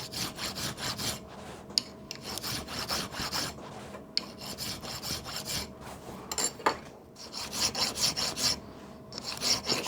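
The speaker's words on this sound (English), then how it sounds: "Sometimes nice to use a file instead of a machine, do things by hand." A safe edge file rasps by hand across steel parts of a traction engine's cylinder drain valves, in steady back-and-forth strokes with brief pauses, close and fairly loud with no talk.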